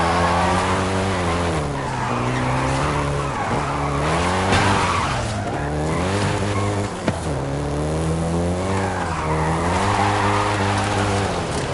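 A Volkswagen Golf GTI in Forza Horizon 5 skids and drifts hard, with loud, continuous tire squeal over a revving engine whose pitch rises and falls through the run.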